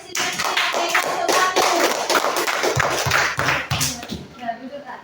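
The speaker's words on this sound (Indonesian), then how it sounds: "Tepuk tangan dulu untuk siswa-siswi kelas" A school class claps for fellow students: a short burst of hand claps in a classroom, fairly close and uneven, with some taps and shuffling, fading out after about four seconds.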